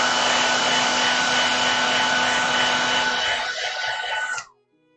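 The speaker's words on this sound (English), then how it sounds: "I'm going to use my hairdryer real quick so that make sure that lower layer on her eyes are" A hair dryer blowing to dry a layer of acrylic paint, a loud steady whooshing hum with a fixed motor tone that runs for several seconds and then cuts off abruptly, leaving silence.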